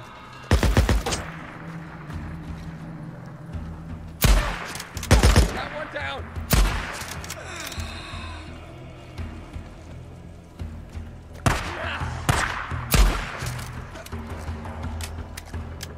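Gunfire in the Days Gone video game, several loud close bursts of shots separated by stretches of quieter game ambience, with a voice talking between them.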